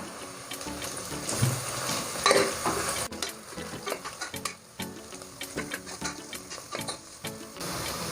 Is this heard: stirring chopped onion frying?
yes